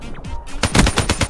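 Rapid automatic gunfire from the video game Call of Duty: Black Ops 3, a loud close burst of evenly spaced shots following a couple of softer whooshing effects.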